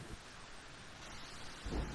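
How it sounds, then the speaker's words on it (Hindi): Heavy rain pours outside, a steady, faint hiss that fills the whole stretch, and a low rumble of thunder swells near the end. "बाहर बहुत तेज बारिश हो रही है"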